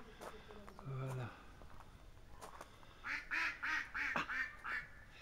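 Ducks and geese in a presbytery garden in Houtain quack in a rapid run of loud nasal calls near the end, after a stretch of people talking nearby.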